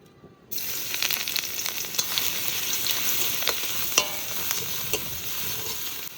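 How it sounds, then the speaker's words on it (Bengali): Crushed garlic dropped into mustard oil in a wok sets off a steady, close sizzle that starts abruptly after a brief silence and carries on evenly with faint stirring clicks. "রসুনগুলো একটু ছেঁচে নিয়েছি এবার তেলের উপর দিয়ে দেবো"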